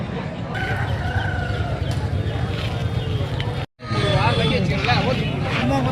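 A rooster crows amid the constant hubbub of a busy Tamil Nadu poultry market, with clucking fowl and background voices filling the scene. There is a brief dropout midway.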